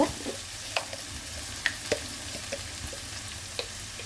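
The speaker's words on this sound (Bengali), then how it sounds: "তো চলো সব কিছু একটু ভালোভাবে ভাজা হোক।" Paneer fried rice with cashews and raisins is stir-fried in a pan over a low flame. A soft, steady sizzle runs under sharp spatula scrapes and clinks that land at irregular intervals, and no one speaks.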